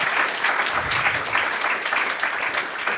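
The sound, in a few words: audience applause for poets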